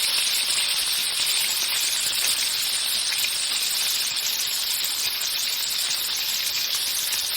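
Chopped beans and cashews frying in a hot pan with oil, a steady close bright sizzle holding evenly throughout with no pauses.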